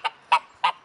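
Three short nasal honking quacks from ducks, evenly spaced and fairly close, with quiet between them.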